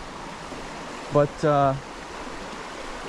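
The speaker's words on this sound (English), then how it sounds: "this river is not super big, it's not super deep, it's pretty small" A small, shallow river flows with a steady, even rush of water throughout, and a person briefly speaks over it midway.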